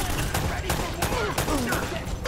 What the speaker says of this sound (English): They're shooting at you too,